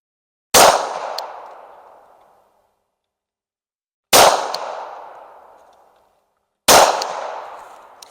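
Three loud gunshots fired to zero a Cylee Ghost HDG optic, spaced a few seconds apart, each a sharp crack followed by a long fading echo and silence between.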